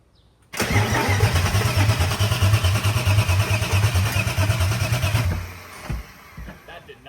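A turbocharged BMW E36 engine is started in gear without a clutch, cranking and then roaring loudly and roughly for several seconds, then cutting out abruptly, leaving a few faint knocks.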